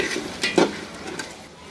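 Tomatoes frying with beef and a little salt in a pot, a brief soft sizzle with a couple of quick stirring scrapes close by, no voices.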